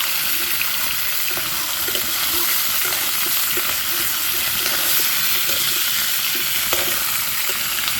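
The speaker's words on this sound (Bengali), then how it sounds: "আলুটা ভেজে নিচ্ছি" Potatoes frying in hot oil in a pan over a wood fire, giving a steady, close, dense sizzle with faint scraping stirs and no talking.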